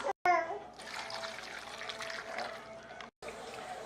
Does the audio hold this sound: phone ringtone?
no